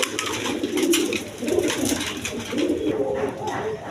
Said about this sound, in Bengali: একদম বিগ সাইজের কবুতর দেখেন, দেখার মতো কবুতর